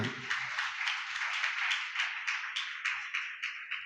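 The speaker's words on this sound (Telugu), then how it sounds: "చప్పట్ల కొట్టండి గట్టిగా" A church congregation claps in a steady, rhythmic unison beat, several claps per second over about four seconds, fairly distant and even in loudness.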